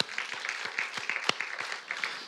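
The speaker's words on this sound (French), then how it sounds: "Oui, on peut applaudir." A small church congregation claps during worship, a sparse, fairly faint patter of distinct individual claps at an irregular rhythm, with a few voices underneath.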